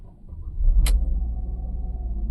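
Mercedes-Benz 204 V6 engine, one with a misfire fault, settling into a steady low idle rumble just after starting, with a brief clatter from the start near the beginning.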